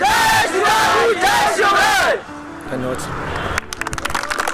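A crowd of college students at Jai Hind College roars in loud, rhythmic chanting with repeated surges of massed voices, then gives way to scattered cheers, whoops and clapping.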